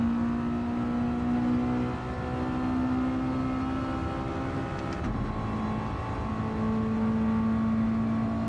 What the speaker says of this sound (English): Turn the engine noise down a bit again.